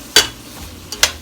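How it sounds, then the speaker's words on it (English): A utensil scrapes the bottom of a pan to lift the drippings while making sausage and potato soup: two short, bright scrapes about a second apart, with a faint sizzle between them. "you kind of need to scrape the bottom of the pan and get all the drippings off"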